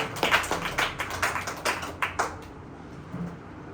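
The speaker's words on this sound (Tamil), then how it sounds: "கைத்தட்டி ஆண்டவரை மகிமைப்படுத்துகிறாங்க" A small church congregation claps hands in praise of the Lord, a loose rhythmic run of separate claps at moderate level that thins out and stops after a few seconds.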